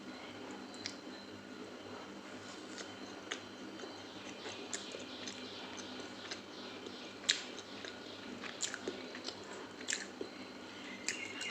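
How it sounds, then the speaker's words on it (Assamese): Someone bites into and chews a soft homemade cake close to the microphone. Faint wet chewing and occasional sharper crunchy clicks are spread irregularly over a quiet room background, with no talking. "এতিয়া মই কেকটো খাই চাম"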